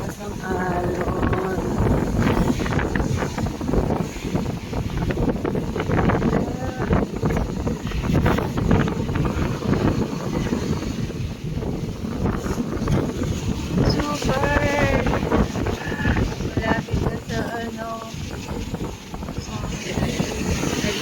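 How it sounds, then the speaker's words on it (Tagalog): Big waves and strong wind on a Boracay beach during stormy habagat season: a continuous rough roar of surf and gusts buffeting the microphone, with people talking over it now and then. "Sa ganitong kalaki at kataas na alon."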